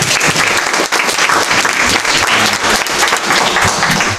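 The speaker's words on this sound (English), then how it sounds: "let's give a round of applause" Loud, sustained applause from a sizable audience, many hands clapping densely and continuously.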